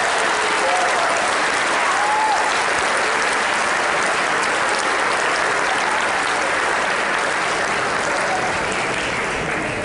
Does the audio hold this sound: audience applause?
yes